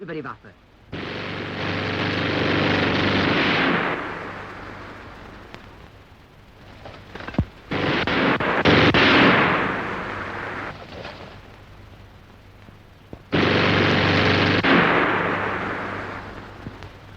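Machine gun fired in close combat in three long, loud sustained bursts, each a dense roar of rapid shots, with quieter gaps between them and a few sharp single cracks.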